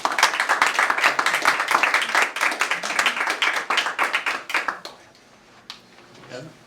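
An audience at a Maine state economic growth announcement gives a round of applause, with crisp, dense clapping for about five seconds that stops abruptly, followed by faint room noise and a stray clap.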